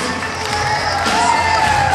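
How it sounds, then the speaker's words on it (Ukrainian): An audience applauds steadily at a stage concert honouring the leaders of a folk choreography ensemble; the dense, sustained clapping and crowd noise, with a few cheers, swells slightly and continues over a held musical tone. "Щирі оплески"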